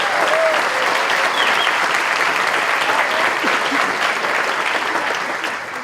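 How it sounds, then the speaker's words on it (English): An audience at the Health Heroes 2018 awards event applauds its sponsors, a dense, steady round of clapping that carries on for several seconds and tapers slightly at the very end. "Let's please have a round of applause for all of our sponsors."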